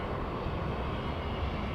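A Virgin Atlantic airliner on a London-bound flight at Los Angeles airport gives a steady, broad engine roar that holds at an even loudness throughout, with no voices.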